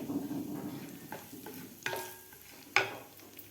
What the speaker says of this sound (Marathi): मिरची पावडर घातल्यानंतर आपल्याला व्यवस्थित हलवून घ्यायचं आहे